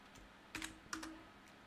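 A few quiet taps on a computer keyboard, including presses of the Enter key, heard as two or three brief clicks close by against a faint background, with no talking.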